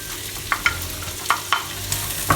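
Leek and onion frying in hot oil for an asparagus cream soup, a steady sizzle with a few sharp clacks of a utensil stirring the pan; no talking.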